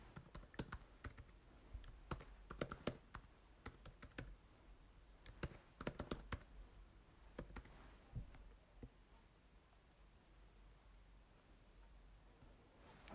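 Rapid, uneven typing on a computer keyboard while a password is entered, with dense bursts of key clicks early on that thin to scattered taps toward the end, close and fairly quiet.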